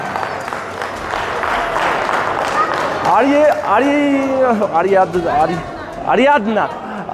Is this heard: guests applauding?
yes